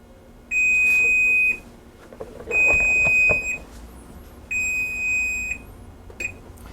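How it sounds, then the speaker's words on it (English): An oven timer beeps to signal brioche is done baking: three steady, shrill electronic tones about a second long each, evenly spaced, over a quiet kitchen with faint clatter. "That beeping is telling me that my brioche is ready to come out of the oven."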